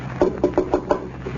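Five quick knocks on a wooden door in an old-time radio comedy, evenly spaced and close, with no voices over them.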